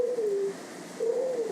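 A pet bird coos in two soft, low, drawn-out phrases separated by a short pause, close by in a quiet room.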